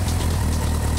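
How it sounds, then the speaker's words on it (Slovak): A Kawasaki Ninja 1000SX motorcycle idles after starting, a steady low engine rumble with a smooth, even pulse, close and alone. "Takto znie naštartovaná motorka."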